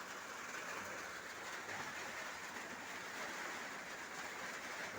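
Heavy rain with gusting wind in Baliwag, Bulacan, a steady dense broadband wash that holds at constant loudness for the whole stretch, with no voices.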